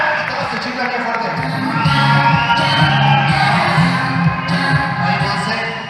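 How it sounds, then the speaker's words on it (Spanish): Guests at a quinceañera party in a banquet hall whistle and cheer loudly in a sustained crowd roar, with a rising whistle sweeping over the din and music thumping underneath. "todos se chiflan bien fuerte"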